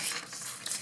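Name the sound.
turning a sketchbook page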